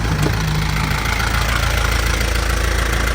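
The inline engine of a mini dump truck runs at a steady idle nearby. It gives a continuous, even rumble with a slight knocking texture and no talk over it.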